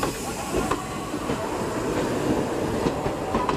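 A train rolls into a station with a steady low rumble and rhythmic clickety-clack of wheels over rail joints, the close, continuous noise marked by a few sharper metallic clanks.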